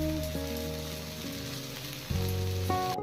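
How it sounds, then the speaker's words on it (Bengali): Chicken reshmi kabab pieces, brushed with butter, fry in a pan with a steady close sizzle. Background music with sustained tones plays over the frying throughout. "সবকটা চিকেনের পিস আমি এভাবে ফ্রাই করে নেব।"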